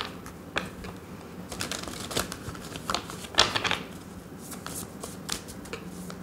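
A tarot card deck being shuffled up close: soft papery riffles and quick flicking taps in an irregular rhythm, fairly quiet and with no voices.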